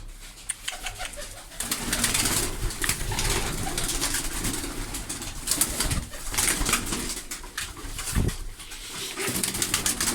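Pigeons in a coop coo in soft, repeated low calls that carry through most of the stretch, with occasional wing flutters and rustling close by.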